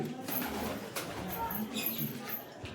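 Pigeons in a loft cooing softly and intermittently in the background while someone talks over them.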